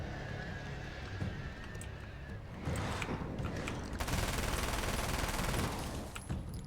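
Gunfire in the video game Alan Wake's American Nightmare: dense, sustained bursts of rapid shots that swell louder partway through, with no talk over them.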